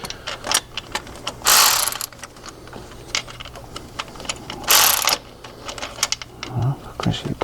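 Ratchet working on the starter mounting bolts of a Honda Accord, two longer bursts of rapid clicking plus scattered short clicks, close and clear, with someone speaking French between them.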